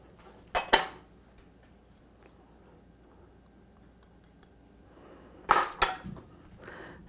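A spoon works cheese into a hot cheese puff mixture in a pot, giving two bursts of sharp metallic clanks and scrapes several seconds apart, separated by a quiet stretch with no talking.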